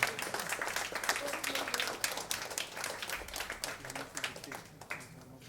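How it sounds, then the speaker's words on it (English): Audience applause at a book unveiling on stage, a dense continuous patter of clapping that holds steady throughout and thins slightly near the end. "let your applause be relentless for this wonderful moment"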